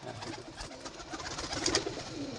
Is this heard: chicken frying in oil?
no